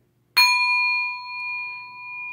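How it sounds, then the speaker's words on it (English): A single bright strike on a small bell, ringing out with a clear sustained tone that slowly fades in a quiet room. "Let's ring this bell for this because I feel like somebody needs to know."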